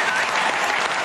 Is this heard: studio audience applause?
yes